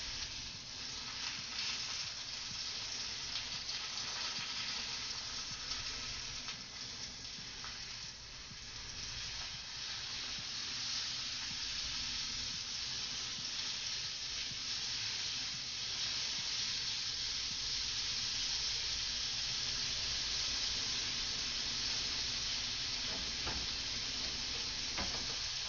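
Onions charring in a hot pan, a dense steady sizzle and hiss with occasional stirring scrapes, close and continuous for the whole stretch, no talking.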